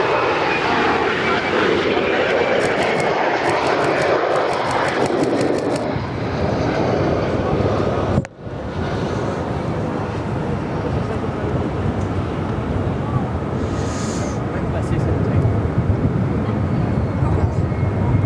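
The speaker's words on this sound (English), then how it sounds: "The F-35s that you see landing now from VX-9 as we follow the Herc." F-35 fighter jets landing at RAAF Williamtown behind a C-130J Hercules, a loud continuous jet roar dominating throughout, with a commentator talking over it.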